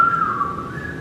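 A single person whistles a short, steady, fairly loud tone that bends slightly in pitch, imitating whistled speech, heard alone in a quiet indoor space.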